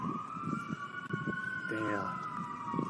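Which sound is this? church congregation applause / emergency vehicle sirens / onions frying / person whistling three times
emergency vehicle sirens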